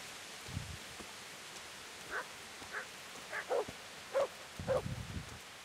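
A dog in Kingdom Come: Deliverance, near the town of Rattay, gives a handful of short, fairly faint barks and yips spaced over a few seconds against a soft outdoor background.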